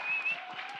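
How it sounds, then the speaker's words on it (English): A church congregation applauds, a steady close wash of clapping hands that holds evenly for under a second. "Let's give them a round of applause."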